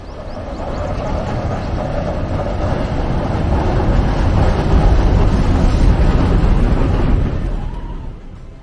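A train on the line from Nangal in Punjab to Bhakra Dam in Himachal Pradesh rumbles loudly and steadily, a dense low roar swelling toward the middle and easing off near the end, with no voices.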